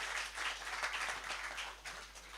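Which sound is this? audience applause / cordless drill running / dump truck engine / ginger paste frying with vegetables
audience applause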